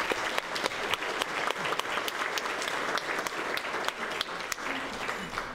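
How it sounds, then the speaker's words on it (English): Audience applause for a head table at a formal luncheon event, a dense roomful of clapping with a few sharp, distinct nearby claps standing out, continuing steadily throughout. "Please give a round of applause for our head table."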